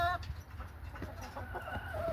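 Chickens kept in snowy winter conditions cluck softly in short, scattered calls, fairly close against a low background rumble.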